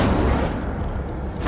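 A fire spell cast in Hogwarts Legacy bursts out as a dense, roaring blast that fills the whole moment without letup, loud and close, with no voices over it.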